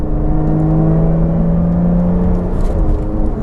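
A Lotus sports car engine idles loudly, then revs up with a steady rising drone, close and continuous throughout.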